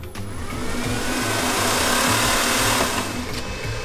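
A power sander buzzes steadily and loudly against sandpaper while shaping a handmade knife outline, a continuous high whirring drone with slight shifts in pitch and no pauses.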